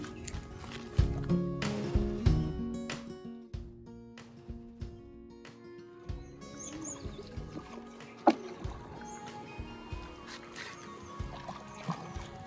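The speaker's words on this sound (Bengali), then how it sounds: "এই যে নৌকায় আমি এখন উঠে পড়ব" A wooden rowing boat crosses the Chitra river in a village, with repeated close knocks of oars and hull and light water trickles sounding at a slow, uneven rhythm, and no talking.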